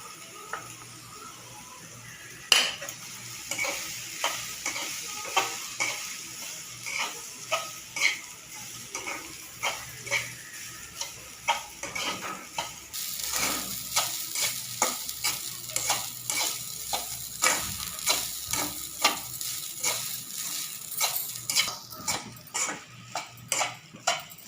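Rice being stirred into fried spinach in a pan for pulao, with rhythmic repeated scraping strokes of a spoon over a steady sizzle, loud and close.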